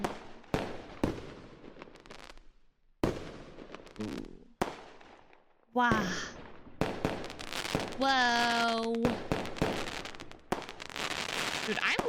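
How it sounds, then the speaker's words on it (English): Fireworks bursting during a 4th of July night, with sharp booms, crackling volleys and a whistling rocket that rises and falls, some bangs close and some distant, while people exclaim now and then. "Dude, I'm loving all these fireworks."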